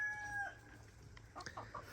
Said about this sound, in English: The Polish hens are the loudest hens in the whole group.